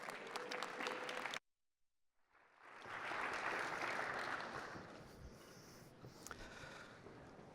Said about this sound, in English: Please welcome to the stage with a big round of applause.